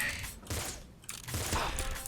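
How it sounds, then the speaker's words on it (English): Bazooka explosions in a video game, heard as a couple of broad, noisy blasts and rumbling bursts in quick succession, loud and close, with no talk over them. "the explosions were from the bazooka"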